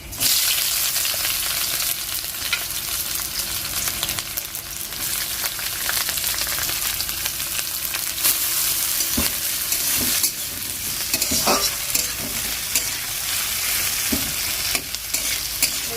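Onions frying in hot oil for egg dalna, a dense continuous sizzle with occasional stirring scrapes throughout, close and steady with no talking.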